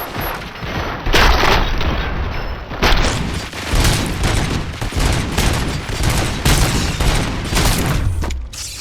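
Gunfire in the RoboCop Rogue City video game, a dense, loud, continuous barrage of shots and booms layered over a game soundscape, with no speech.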